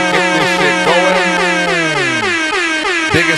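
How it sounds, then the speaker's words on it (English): Several air horns blast together in a loud, overlapping chorus with wavering pitches, one low tone sliding down before a final honk cuts in near the end. "1 air horn, 2 air horn, 3 air horns, and a bunch of air horns on the way in"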